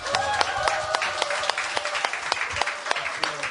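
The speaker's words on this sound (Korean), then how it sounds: "여러분들의 뜨거운 박수소리 감사드립니다." A live audience at a public podcast taping in a basement café claps warmly, with individual sharp hand claps standing out in a dense, lively round of applause, and a faint tonal background sound running underneath.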